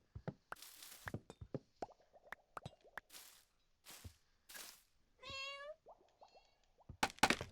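A cat meows in the video game Minecraft, with a rising game meow near the middle among scattered plops, drips and bouncy effect sounds between short pauses.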